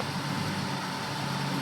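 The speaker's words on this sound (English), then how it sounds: "And then here's the motor running." A Beaumont car engine idles with a steady, even hum and no gaps, heard close and fairly quiet.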